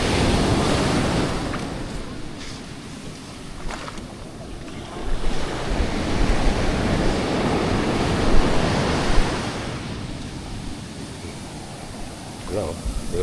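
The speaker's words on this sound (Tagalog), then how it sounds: "Lakas ang alon eh." Strong ocean surf washes and crashes continuously at the shore, a loud broadband roar with wind buffeting the microphone and occasional voices underneath.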